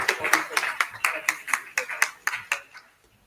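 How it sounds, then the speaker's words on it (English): Applause at a literary festival session, heard as sharp, fairly regular claps about four per second that fade out after a few seconds, close and clear over quiet background. "Can we please have a big round of applause?"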